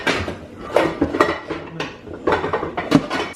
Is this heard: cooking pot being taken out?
yes